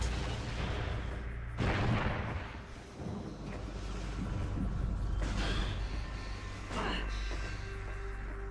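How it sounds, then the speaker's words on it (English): Missile shots fire in the video game Metroid Prime 2: Echoes, giving a few booming, blast-like bursts over a constant low game soundscape, at moderate level with no talk. "I know I need to missile it."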